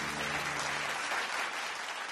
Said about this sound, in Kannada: ಈ ಚಪ್ಪಾಳೆ